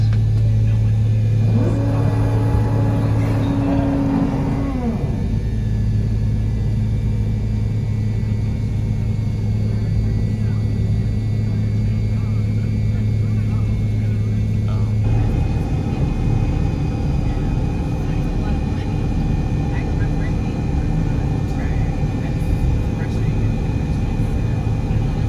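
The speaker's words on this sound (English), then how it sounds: "Engines are starting now." Engines of a Delta MD-88 airliner starting up, heard from inside the cabin as a loud rising whine over a deep, steady rumble, with a pitch change partway through and a cabin announcement over it.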